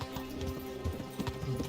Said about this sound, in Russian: лошадь Индриха скачет прям по центру